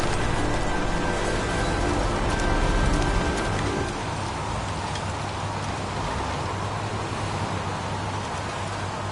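Steady rain pouring down in the video game Heavy Rain, a dense continuous hiss of drops on surfaces, loud at first then slightly softer and even throughout.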